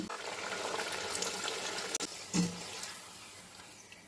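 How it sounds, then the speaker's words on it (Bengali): Luchi puris fry in hot oil, a faint steady sizzle and bubbling with a couple of sharp pops and splutters near the middle. "এই যে এখানে তেল গরম হচ্ছে আর আমি বানাচ্ছি গরম গরম লুচি।"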